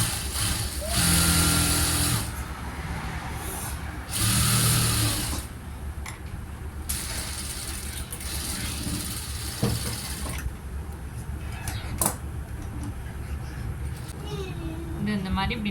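A sewing machine stitches a blouse in short whirring runs that start and stop, close by, with a person talking over and between the bursts of stitching.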